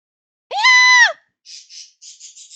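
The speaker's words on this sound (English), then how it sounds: "Everyone leapt out of their chairs as we heard a scream from downstairs." A single shrill scream from downstairs in the visual novel Chaos Child rings out clearly for about half a second, then a few short, high chirping sounds follow. Silence surrounds it.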